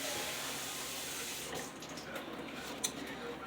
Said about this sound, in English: so I'm going to add a little water to it